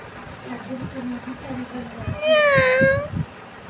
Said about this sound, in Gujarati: આપણા ઘરે મિની માસી આવ્યા છે બિલાડી આવી છે